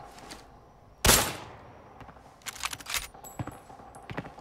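Scattered gunshots crack at a distance in the video game Arena Breakout, near a cable car, one louder report followed by several sharper, irregular pops amid faint background noise.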